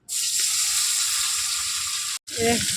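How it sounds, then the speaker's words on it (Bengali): Small mourala fish frying in hot oil in a wok, a loud continuous close sizzle that drops out briefly near the end before bubbling back up, with no speech. "কড়াই তেলের মধ্যে মাছগুলো ছেড়ে দিয়েছি।"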